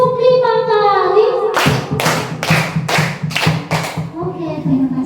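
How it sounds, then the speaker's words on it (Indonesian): Five loud, evenly spaced group claps ring out from a class of children, preceded by someone speaking and followed by quieter talk. "tepuk 5 kali."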